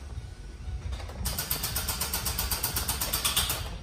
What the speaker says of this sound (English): That noise is the starter not having the power to turn over the engine